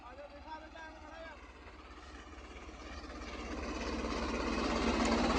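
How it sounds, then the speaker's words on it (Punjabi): A 3630 tractor engine runs with a steady low throbbing drone that slowly grows louder and rougher, close by and unbroken throughout, with no voices heard. "ਹੁਣ ਲੱਗੇ ਆਪਾਂ ਟਰੈਕਟਰ ਬੰਦ ਕਰਨ"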